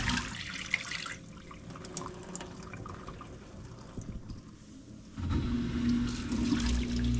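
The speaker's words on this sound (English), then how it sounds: "More water pumping out." A Samsung WA50R5200AW 5.0 cu. ft. top-load washing machine pumps out water with a steady gushing, trickling wash, swelling louder toward the end, alone and close by.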